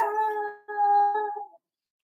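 A dog howls in two long, wavering, tonal cries with a brief break between, fairly close and clear, then fades to silence.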